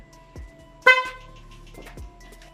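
Motorcycle horn wired through a relay and triggered by the horn switch, giving one short loud honk at the centre between soft clicks and faint low thumps, in a quiet setting.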